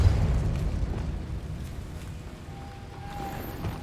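The Repulsor spell in Hogwarts Legacy lands as a heavy booming blast up front, then decays into a rumbling tail that fades over several seconds.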